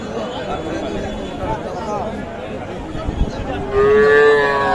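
Young bull calves at a village cattle market give a loud, drawn-out moo near the end, preceded by general crowd chatter and voices around the animals.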